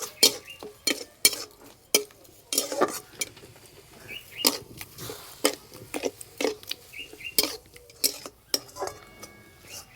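A spoon stirs a ripe palm fruit filling with sugar and cardamom in a pan, giving repeated close metallic scrapes and clinks in an uneven rhythm over a faint background, with no talk.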